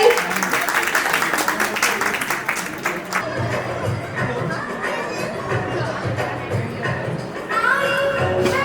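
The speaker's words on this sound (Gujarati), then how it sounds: "પાછી જોરદાર તાળીઓ થઈ જાય" Audience applause at a baby shower performance, a broadband patter of clapping mixed with crowd chatter, louder and denser at first, then settling into a steady murmur.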